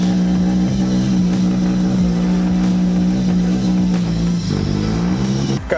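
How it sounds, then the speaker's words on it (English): A street-tuned car engine settles into a rough idle, a loud steady droning hum with slight wavering in pitch, running close and continuous until a brief dip near the end. "Finally got her idling a little bit."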